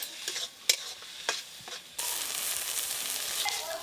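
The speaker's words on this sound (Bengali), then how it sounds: "এটাকে নেড়ে নেড়ে পুরো শুকনো করে নিতে হবে" Bottle gourd peel paste stirred in a pan until dry: a few scraping strokes at first, then a steady close sizzle-and-scrape from about two seconds onward, with no talk.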